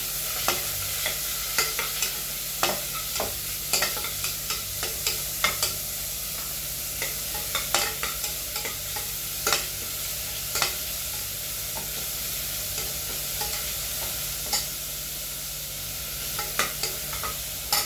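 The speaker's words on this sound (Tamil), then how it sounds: "2 பெரிய வெங்காயமும் போட்டு வதக்குறோம்" Two large chopped onions sautéing in oil with mustard seeds and curry leaves, a steady soft sizzle broken by frequent sharp spatula scrapes and taps against the pan, close and alone.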